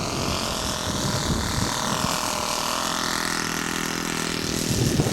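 Laser 70 four-stroke engine in a 1/6 scale model aircraft running steadily at an outdoor scale aircraft show, a continuous mid-distance drone with gusty wind noise.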